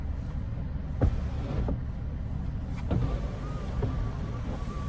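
A frozen sunroof on a 2024 Volvo V90 Cross Country B6 wagon motors open with a steady electric hum, broken by a few sharp cracks of ice snapping loose near the start and middle.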